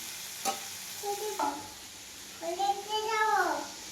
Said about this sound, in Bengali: এদিকে বরবটি আমি ভাজছি